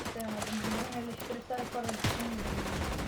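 Gunfire in the video game Fortnite crackles in quick, repeated bursts, fairly quiet and mixed under a voice and tonal game sounds.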